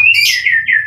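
A lovebird gives loud, close, shrill chirps in a short burst as it is released into a colony aviary, with sharp rising and falling tones and no talk over them.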